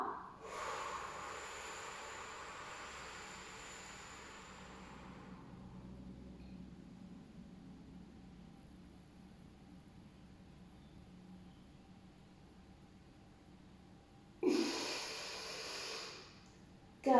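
Deep inhaling during a low pressure fitness exercise: a long, steady breathy hiss for the first few seconds, a quiet pause, then a second short, louder rush of breath near the end, with no talking.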